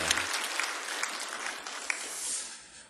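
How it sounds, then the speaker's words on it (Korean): A church congregation applauds its choir, steady dense clapping from a full room that carries on without a break and thins slightly toward the end. "박수로 한번 격려하십시다"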